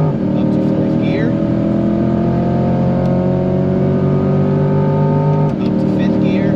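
A Chevrolet C8 Corvette accelerating hard in fourth gear on the Spring Mountain race track, its engine loud and steady with a rising drone, heard from inside the car with a driving instructor talking over it.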